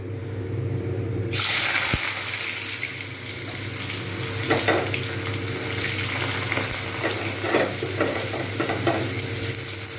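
Sliced potatoes deep fry in hot oil, a loud, continuous close sizzle and hiss that swells suddenly as they drop in, with occasional stirring scrapes and bubbling bursts.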